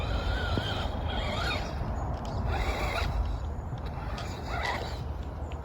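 A Strada XT mower with a 35-ton motor chews through grass in the woods, a continuous loud whirring drone with occasional creaks and mechanical squeaks rising over it.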